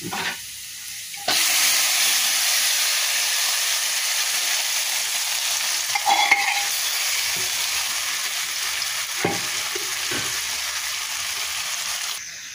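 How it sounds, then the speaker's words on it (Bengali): Boiled vegetables are poured into hot oil with fried onion and garlic, and a sudden loud hiss takes over and stays at a strong, steady sizzle with a few faint clinks, close and without talk. "আমি এই যে ফোড়ন দেওয়ার জন্য পেঁয়াজ রসুন ভেজে নিয়েছি। এখন সবজিগুলো আমি এর ভিতরে ঢেলে দেবো।"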